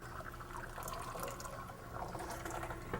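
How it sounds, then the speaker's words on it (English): Water flows and gurgles down a freshly unclogged household drain, a quiet, steady trickling rush with small splashes and bubbling, nearby and alone. "Listen to the drain flowing."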